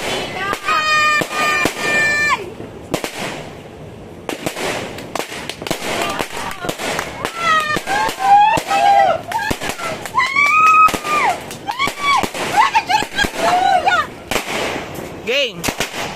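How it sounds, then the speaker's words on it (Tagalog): New Year fireworks and firecrackers bursting in a rapid string of sharp cracks and bangs throughout, close and loud, with excited voices and shouting mixed in over the blasts. "So, sisindahan na yung fireworks."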